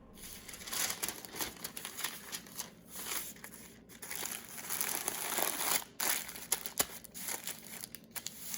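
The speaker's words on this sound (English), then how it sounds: "go ahead and wrap your parchment paper around it" Parchment paper being wrapped around a disc of pie dough, a close, quiet run of crinkling and rustling with short crisp bursts and brief pauses as the sheet is folded and pressed.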